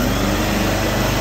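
A small Skyvac generator engine runs at a steady, high-pitched buzz with a fast, even pulse, loud and close, with no voices.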